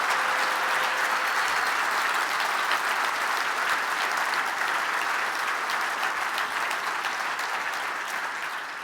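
Sustained, dense applause from a large keynote audience at a Jamf Nation user conference, steady and loud throughout before tapering slightly at the end, with no voices over it.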